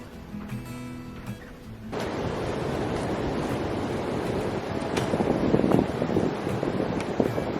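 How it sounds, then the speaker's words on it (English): Strong wind buffets the microphone outdoors beside a container house under construction, starting after a brief quieter moment and then roaring as a steady, loud rush with stronger gusts toward the end. "Holy goodness, Cody, that's a lot of wind."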